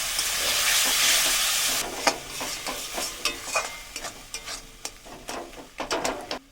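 Chopped tomatoes with cashew and raisin paste fry in a kadai for mutton kosha: a strong hiss at first, then a quieter sizzle broken by repeated sharp scraping stirs of a spatula.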